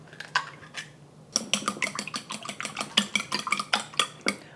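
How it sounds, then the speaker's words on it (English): Three eggs are lightly beaten in a bowl with a utensil, a quick run of sharp clicking taps against the bowl, a short pause, then a steady rapid rhythm of wet clinks, close and clear. "I have 3 eggs. I'm just going to beat them lightly."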